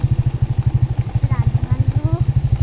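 Motorcycle engine idling nearby with a loud, rhythmic low chugging pulse that holds steady throughout, while a voice talks faintly over it.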